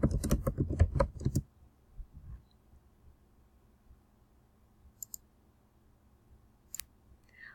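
A quick burst of computer keyboard typing as an author's name is entered, a rapid flurry of clicks for about a second, followed by near silence and a few isolated faint clicks.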